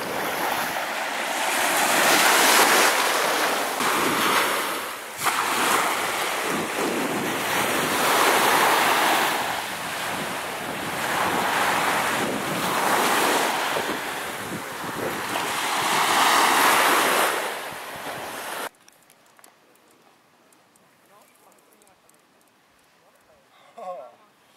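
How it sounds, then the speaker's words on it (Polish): Sea surf and gusting wind buffet the microphone on the beach dunes at Hel, with waves surging loudly and steadily before cutting off abruptly to near silence near the end. "Jesteśmy na wydmach w Helu."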